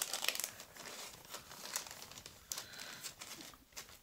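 Gift paper crinkling and rustling as a surprise present is unwrapped at close range, with irregular bursts of crackle and a few sharper tearing rustles, and no talking.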